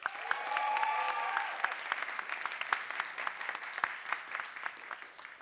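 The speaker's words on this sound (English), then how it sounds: "Remember, it's the volume of your applause that counts," An audience at a science-communication competition semi-final claps steadily for several seconds, a dense round of applause that thins into scattered individual claps toward the end.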